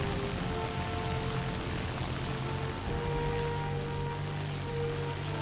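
Propeller aircraft engine climbing in a combat flight video game, a continuous droning buzz with steady tones that holds throughout, moderately loud and even, with no voices over it.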